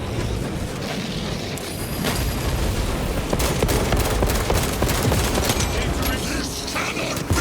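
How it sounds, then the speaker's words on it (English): A frag grenade explosion and heavy gunfire in the Warhammer 40K Space Marine 2 video game during a boss fight, a dense, continuous barrage of booms and rapid shots, loud and close throughout. "Deploying frag grenade!"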